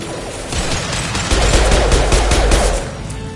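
Loud rapid rifle fire in Mass Effect, a dense burst of shots rattling close with heavy low thumps for about three seconds.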